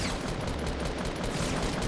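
A rapid burst of gunfire in Fortnite Battle Royale on Xbox One, loud and evenly paced shots filling the whole stretch with no talk.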